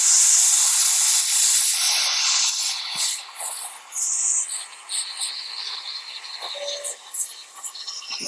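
A handheld steamer hisses steadily while car window tint is peeled from the glass. The hiss is bright and continuous, then breaks into shorter bursts and pulses near the microphone.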